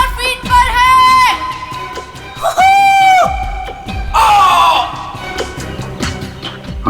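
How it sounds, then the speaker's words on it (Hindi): A man screams repeatedly during a skydive at about 5000 feet, heard as a replayed recording: long, loud, strained cries in several bursts over rushing background noise. "हवा में जंप करने के करीब 15 सेकंड के बाद ये आलोक चीखा था"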